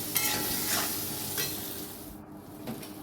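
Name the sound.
potatoes frying in pan with salt and turmeric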